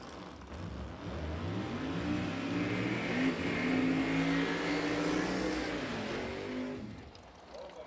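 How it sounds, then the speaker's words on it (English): A drag racing car in the Outlaw 632 class, with a 632 cubic inch engine, does a burnout at the US Street Nationals in Bradenton. The engine roars loud and steady for about six seconds, then eases off. "Hoagland gets back on the gas during the burnout, straighten the car out."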